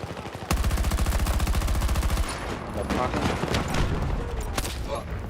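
Rapid machine-gun bursts in a multiplayer shooter game rattle loudly in a fast even rhythm, then give way to scattered shots and explosions, with a player talking over the action.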